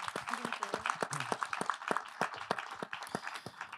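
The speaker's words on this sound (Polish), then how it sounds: "Brawa jeszcze raz Dominiki" Applause from an audience at an ecommerce meetup, a modest group clapping in uneven, sparse bursts with individual claps clearly separated, fairly faint, with some voices murmuring underneath.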